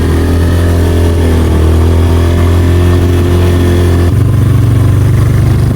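A vehicle engine in first gear near Sittong drones loudly and close up in a steady, throaty hum, then shifts abruptly to a lower, rougher tone toward the end, with no talking.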